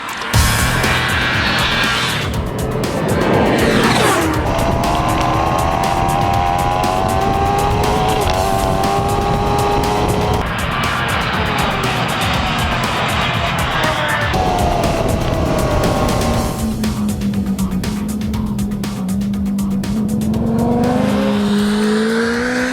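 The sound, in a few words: supercharged Kawasaki Ninja H2 motorcycle lapping a speedway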